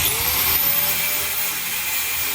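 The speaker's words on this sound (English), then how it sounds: "always keep 2 hands on the grinder. This is going to suck because this will be throwing spark right at me." An angle grinder cuts into a van's metal ceiling frame, throwing sparks, with a loud, close, unbroken high whine and grinding roar throughout.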